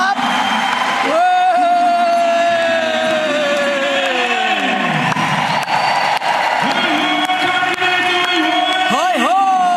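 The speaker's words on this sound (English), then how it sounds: "please give them a huge round of applause" A large crowd at a Democratic Alliance Johannesburg political launch applauds and cheers loudly for ward candidates standing up, with whoops and shouts rising over sustained clapping throughout.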